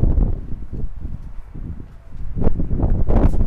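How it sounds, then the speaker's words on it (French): Strong wind gusts blow outdoors where tables have been knocked over, buffeting the microphone with a low, rumbling roar that dips midway and then surges louder toward the end. "il y a énormément de vent aujourd'hui. Vous devez l'entendre, je pense."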